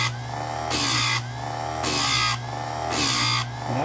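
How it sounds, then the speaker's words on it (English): A Harbor Freight electric chainsaw chain sharpener runs with a steady motor hum, broken by three loud, bright grinding bursts of roughly half a second each as the wheel meets the chain teeth, close and alone without talk. "This will sharpen most chainsaw chains, okay?"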